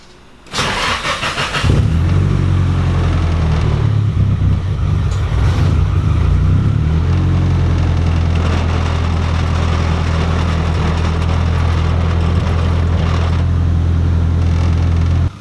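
A Nissan 240SX engine cranks and fires up after a bigger fuel pump install, then settles into a steady, loud, close idle that runs alone for the rest of the clip.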